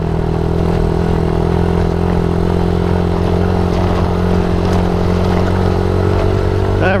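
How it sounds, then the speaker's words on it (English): A Suzuki DRZ 70 dirt bike engine drones loud and close, running steadily as it accelerates and shifts up into third gear over rough ground. "probably do one more little speed burst. There we go, up into 3rd gear."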